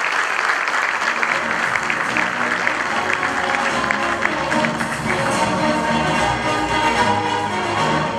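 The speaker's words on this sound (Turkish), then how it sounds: "Sıra geldi alkışa." Sustained audience applause fills a sports awards ceremony hall, steady dense clapping from a large crowd for the full stretch with no break.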